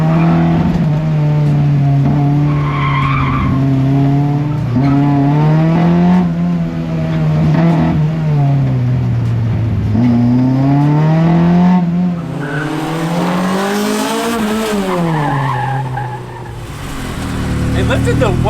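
Drift car tires squealing as the driver warms them, a loud continuous engine drone with wavering pitch and skidding screech running throughout, with a voice talking over it.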